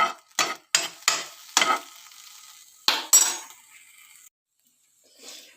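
Stir-frying in coconut oil in a pan, with a series of sharp scraping and clinking spatula strokes over a faint sizzle, then near silence at the end.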